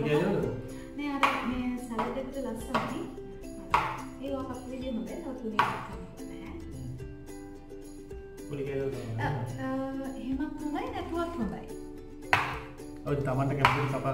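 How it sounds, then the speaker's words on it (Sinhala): A knife slices a strawberry for an avocado salad, giving a series of sharp chopping taps at irregular intervals over a steady tonal background with faint voices. "මේ ස්ට්‍රෝබෙරි ගෙඩිය ලස්සන කපන්න ඕන සලාඩ් එකට ගැලපෙන විදිහට"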